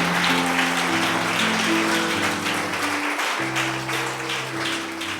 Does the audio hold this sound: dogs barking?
no